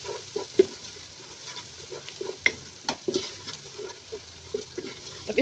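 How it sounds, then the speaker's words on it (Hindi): A spoon mixes spices through sponge gourd cooking in a frying pan for ram tori sabzi, giving irregular clinks and scrapes over a low, steady frying hiss, with no voices. "जितने भी हमने इसमें स्पाइसेस ऐड किए हैं उसको हमने इसमें अच्छी तरह से मिक्स कर लेना है"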